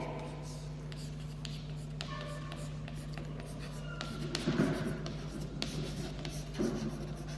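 A pencil scratching on paper in a classroom-style setting, light continuous strokes with small taps and pauses over a steady low hum, fairly close and quiet.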